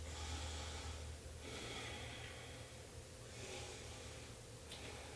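Slow audible breaths during a forearm plank, a few long, near, soft inhale-exhale cycles through the nose, rising and falling over a low steady background hum.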